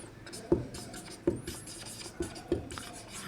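A pen writes the word verification on paper, producing soft scratchy strokes punctuated by four light taps spaced roughly a second apart, close and quiet with no talking.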